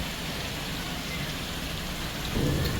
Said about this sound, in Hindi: बारिश हो रही है, बादलों की आवाज़ है ये।